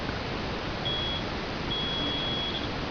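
Multimeter continuity beep while probing between a car stereo amplifier's ground rail and a capacitor's negative terminal, a thin steady tone sounding in two stretches over a constant hiss, loud and close.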